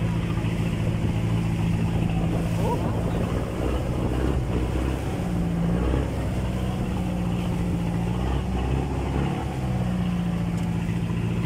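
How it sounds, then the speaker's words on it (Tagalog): A small fishing boat rides big waves on Manila Bay, its engine drone steady and close under heavy wind buffeting and rushing water throughout. "Nabutan kami ng malalaking alon,"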